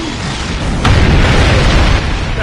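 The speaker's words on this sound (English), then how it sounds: "The Heralds are firing on the portal!" Heavy energy weapons fire strikes a time portal in a Star Trek game, a sudden loud boom followed by sustained rumbling, crackling blasts with no talking.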